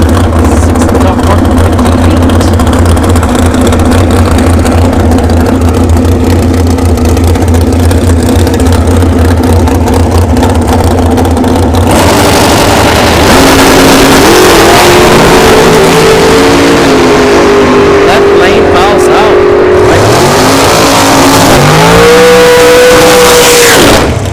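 Dragsters at an NHRA bracket race roar loudly and continuously: a sustained engine drone, then a shift to revving, changing engine pitch and another surge near the end, with no voices heard.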